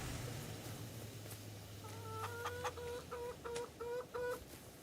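Chickens clucking in the video game Farming Simulator 25, a run of short, evenly spaced clucks from about halfway through, over a low steady hum that stops near the end.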